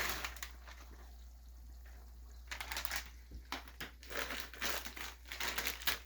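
Frozen mixed vegetables (green beans, carrots, corn and peas) are stirred into a dish, giving close, irregular bursts of crinkly rustling and scraping over a low background hum.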